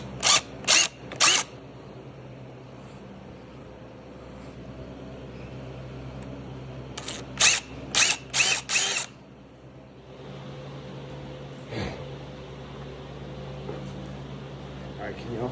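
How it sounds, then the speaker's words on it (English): Power drill pre-drilling a hole to mount a bass shaker on a sim racing rig, two short bursts of high whine early, then a longer stuttering run of pulses a few seconds later, with someone talking in between. "And just hit it with a pre-drill."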